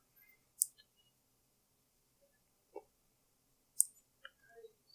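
Computer mouse clicks, a few sharp isolated taps spaced seconds apart, close and faint in an otherwise quiet room.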